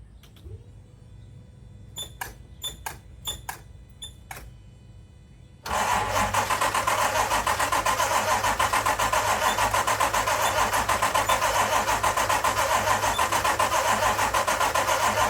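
A car engine cranks with several quick starter bursts, then catches and settles into a loud, steady idle after its spark plugs have been cleaned with a wire brush.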